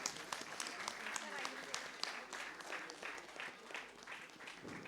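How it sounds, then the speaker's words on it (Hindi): Audience at a stage storytelling show clapping for the writer, a lively mix of many hands with some voices mixed in, steady across the whole stretch. "उनके लिए भी तालियां।"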